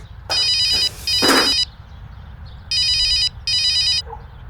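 A telephone rings in two pairs of electronic trilling bursts, close and clear, with a brief noisy rustle between the first two rings.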